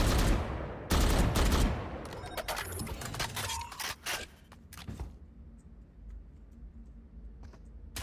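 A swarm grenade is thrown during a video game firefight: a dense, loud cluster of sharp bursts and clatter in the first few seconds, then fading into quieter scattered ticks and pops.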